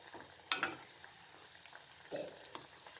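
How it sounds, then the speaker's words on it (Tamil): Iftar snacks deep-fry in hot oil with a soft, close sizzle that rises into two louder crackling bursts before settling back to a gentle bubbling. "சலசலப்பு கொஞ்சம் மாறினதுக்கப்புறம் தான் பிரட்டணும்"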